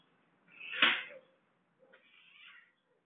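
A cat cries out while play-fighting with a dog, giving one loud, strained yowl followed after a pause by a softer, drawn-out wail, close and clear against a quiet background.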